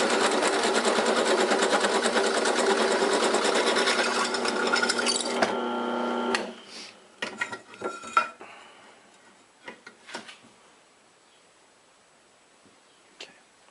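A drill runs continuously on robot frame components for several seconds with a steady buzzing whine, then stops, leaving scattered clattering and knocks of parts and tools being handled.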